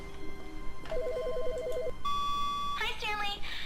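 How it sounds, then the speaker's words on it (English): A phone rings inside The Stanley Parable, a warbling electronic trill followed by a steady tone and more ringing, heard over game sounds and talk. "Oh, the phone's gone again."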